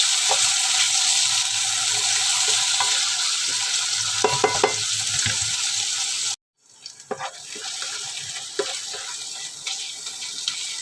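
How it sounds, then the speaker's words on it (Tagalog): Tomatoes being crushed and stirred with a utensil in a pan of sautéed onion and garlic while cooking ampalaya with sardines, with steady sizzling, scraping and clicking strokes close by, a brief pause midway, and no talking. "Ang kamatis, kailangan durugin natin."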